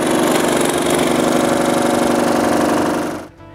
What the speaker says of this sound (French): je découpe toutes les lettres avec la scie à chantourner